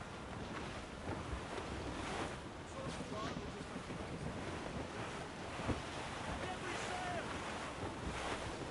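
A squall at sea in Assassin's Creed brings a steady roar of wind and crashing surf around a sailing ship, broad and continuous with faint creaks and distant shouts mixed in.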